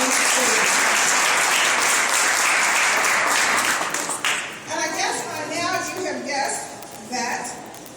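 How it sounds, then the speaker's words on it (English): A crowd at a Women's History Month celebration held by DC councilmembers claps loudly and densely, then the applause tapers off while voices and talk come through underneath. "So can we have another round of applause for Denise, please?"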